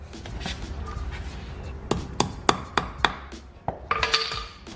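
Sharp hammer taps crimp wire connectors for a light bar harness. About five quick strikes come in a cluster, then a few scattered ones, close up over a rustling background.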